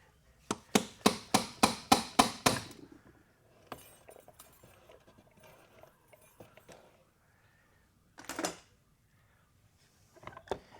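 A slide hammer on a Ford 4R70 transmission pump gives a rapid run of about eight sharp metallic clacks, then scattered quieter clinks and a couple of later single hits, close and without talk.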